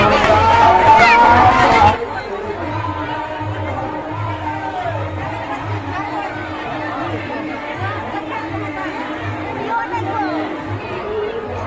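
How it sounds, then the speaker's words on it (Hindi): A dense crowd at the Chhath Puja festival murmurs and chatters in a steady babble. A louder surge of nearby voices opens the scene, then it settles into continuous mid-level hubbub. "तो देख सकते हैं कितना भीड़ है।"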